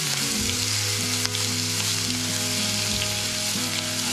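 Cumin, green chili and garlic frying in hot oil give a loud, close, continuous sizzle with crackling pops, alongside a low steady hum.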